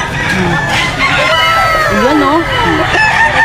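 Gamefowl roosters at a market in Grotto, Bulacan, crow over one another in long rising and falling calls, loud and close, with clucks and someone talking underneath.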